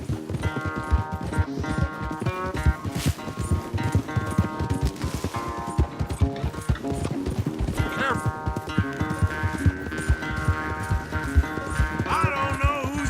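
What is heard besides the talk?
horses galloping in a race, from video game Red Dead Redemption 2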